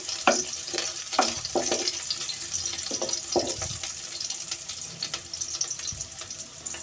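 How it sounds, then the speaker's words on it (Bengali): Chopped onion stirred in a hot pan for a leafy greens fry, with soft sizzling under repeated scraping and clinking strokes of a spatula, close and moderately loud. "এবার আমি পেঁয়াজ কুচিটাকেও কিছুক্ষণ নেড়ে চেড়ে নেব, যতক্ষণ না পর্যন্ত পেঁয়াজ কুচিটা ব্রাউন কালার হয়ে আসে।"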